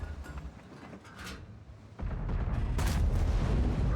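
A tank gun fires one big shot in World of Tanks, a heavy deep boom that erupts suddenly after a quieter stretch and rumbles on loudly to the end.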